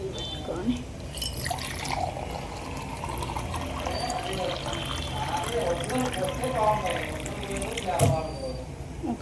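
Water is poured into a jackfruit curry in the pan, a steady liquid pour and bubbling heard close up, with a voice talking over it.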